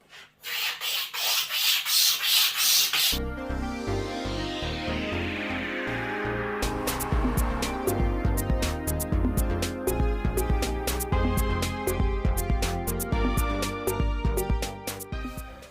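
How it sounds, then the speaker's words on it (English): A Stanley knife blade scraping across a wooden furniture top, a continuous rasping rub with many short sharp scratchy strokes, close and fairly loud for the whole stretch, no voices. "I'm going to use a Stanley knife blade. I'm just going to scrape the whole top"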